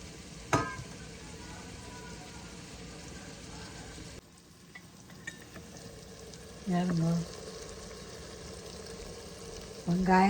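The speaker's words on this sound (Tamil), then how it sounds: "எல்லாம் வதங்கி கொண்டிருக்குது" Shrimp biryani ingredients sautéing in an Instant Pot, a continuous sizzle of frying with occasional stirring clanks and a brief bubbling burst, close and moderately quiet, with a faint voice at moments.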